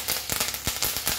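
Mustard seeds spluttering in hot oil as a Telugu tempering is made with urad dal and curry leaves: rapid, close crackling pops in irregular bursts, with no voice over them.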